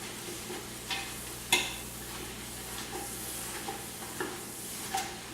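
Collard greens are pressed down and stirred into bacon fat with onions and red pepper flakes, producing a continuous close sizzle punctuated by regular spatula scrapes against the pan roughly every second, with no speech.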